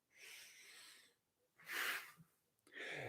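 Forceful exhales during a body-drop movement exercise, three breathy whooshes, the middle one loudest, close to the mic with no talking.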